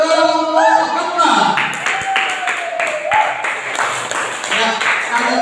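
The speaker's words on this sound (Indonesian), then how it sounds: "Kasih ambil tepuk tangan untuk kelompok gempa" Classroom applause for a student group that has just presented, a burst of clapping from several people that follows a short stretch of speech and carries on steadily at moderate loudness to the end.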